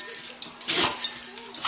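A dog barks and whines at a rainy campsite, short yelps and vocal bursts close by, with people's voices mixing in around it.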